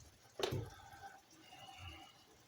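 Warm water pours briefly into a pot with a sharp splash at first, then a softer trickle settling, fairly quiet with no talking.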